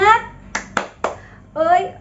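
A class of children claps a rhythmic 'tepuk semangat' spirit clap, several sharp, close group claps in a quick pattern, framed by children's voices chanting before and after.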